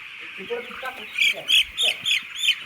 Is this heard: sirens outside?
no